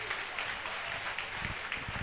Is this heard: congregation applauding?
yes